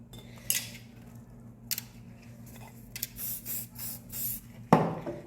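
Hairspray hisses onto a styled S-wave updo in several short close bursts, separated by faint clinks of pins or tools, with a longer spray near the end; no talking.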